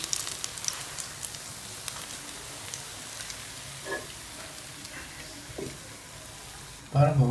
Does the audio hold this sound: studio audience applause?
no